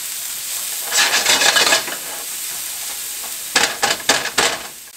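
Garlic sizzles in a pot over medium-low heat for a copycat chicken tortilla soup, with a steady frying hiss broken by two loud bursts of stirring scrapes and crackles.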